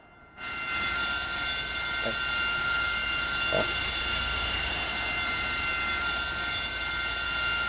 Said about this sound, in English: That's the Harrier, man. That's how they actually sound.